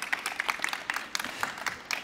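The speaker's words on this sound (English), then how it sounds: "a round of applause for Smruti for coming all the way from London to do this" A trade show audience gives a brief, scattered round of applause after a fireside chat, with individual claps spread unevenly rather than a dense roar.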